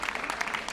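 Brief burst of clapping from a school audience honouring students at an Iraqi school's ceremony in Yalova, Turkey, with quick overlapping hand claps at close range.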